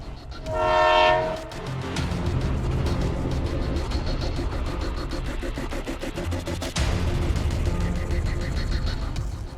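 Locomotive near Munich sounds a loud horn blast, followed by a steady heavy rumble of the train rolling past with rhythmic clattering wheels and a second brief tonal burst, close and continuous.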